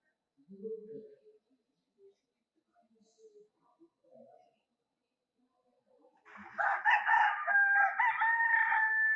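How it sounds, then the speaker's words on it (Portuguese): After a few brief faint sounds, a rooster lets out a loud, clear crow near the end. "Agora vai ser o galo."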